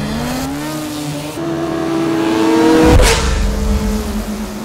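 A 2008 Western Washington University Formula SAE car, Viking 43, revs its engine at California Speedway, pitch climbing through the gears before a sharp shift and renewed acceleration, loud and close.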